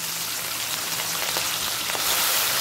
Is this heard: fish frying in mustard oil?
yes